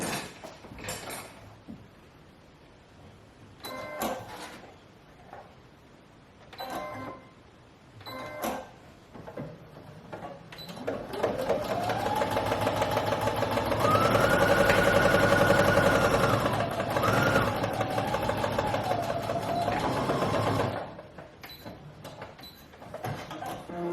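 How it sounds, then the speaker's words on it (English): A sewing machine runs a top stitch along an apron made from a dress shirt, a steady mechanical whirr lasting about ten seconds in the middle. It follows scattered handling clicks and is close and fairly quiet. "So I'm going to hop really quick over to the sewing machine, and I'm just going to do this top stitch"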